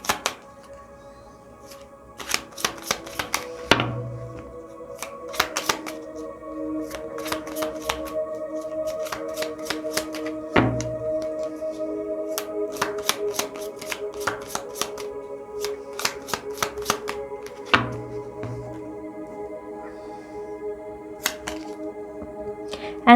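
Tarot cards being shuffled in repeated quick riffling bursts, crisp and close, with brief pauses between rounds before a single card is drawn; no talking.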